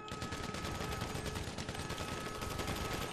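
Dense, nonstop automatic gunfire in the online crime game GTA Online, loud and close, with rapid overlapping shots running through the whole stretch.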